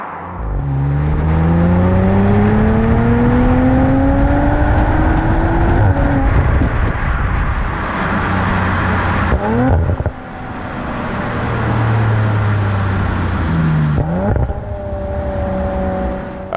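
An Audi RS4's 2.9-litre V6 engine revs hard, pitch sweeping upward through gears with brief dips at shifts, loud and close with a throaty rasp and some wind roar, no talking.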